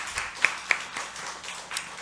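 Scattered handclaps from a church congregation during a Sunday worship service, faint and sparse, with a couple of sharper claps standing out against a quiet room.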